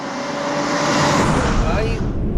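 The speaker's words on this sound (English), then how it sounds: "it's like a no-name brand eBay exhaust by accident, but it sounds good" A Porsche Macan S with a no-name aftermarket exhaust and Stage 1 tune gives a loud, close, raspy engine note that holds steady with a slight rise, with a voice talking over it.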